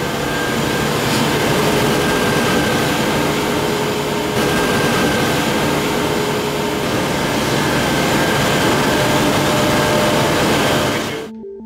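Green CHP heat engines in a sports centre plant room run with a loud, steady mechanical roar and faint whine, unbroken for about eleven seconds before cutting off abruptly.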